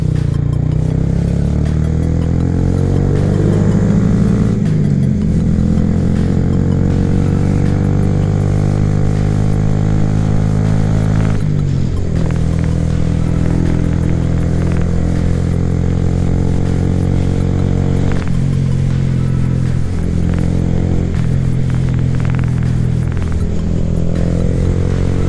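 A Honda Grom motorcycle engine runs continuously while riding around town, a loud, close engine drone that rises and falls in pitch as it revs and shifts, with no talking.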